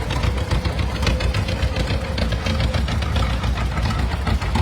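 A propane-fuelled John Deere Model 70 tractor rolls past in a parade at a classic tractor reunion in West Bend, Wisconsin, its two-cylinder engine giving a loud, steady, close chugging putter with a rhythmic low knock.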